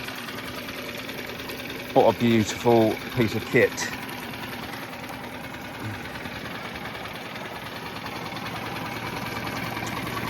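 A 6 horsepower Tohatsu four-stroke short-shaft outboard motor idles steadily the whole time, a constant mechanical purr, with someone briefly speaking over it partway through.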